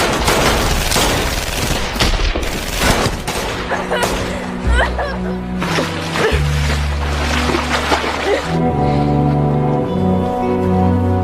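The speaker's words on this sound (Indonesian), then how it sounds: "mereka tetap menghujani tembakan kepada Casper" Sustained gunfire from a gang shooting at a man in a gangster film, loud bursts and volleys packed into the first half, then giving way to low sustained music tones.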